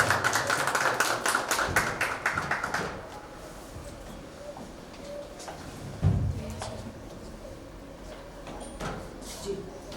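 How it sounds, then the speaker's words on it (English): A seated audience at a literary conversation session in Bhopal claps to welcome two speakers onto the stage. The burst of applause is brisk for about three seconds, then quickly fades into quiet room noise with a few scattered knocks. "Please welcome them with a round of applause."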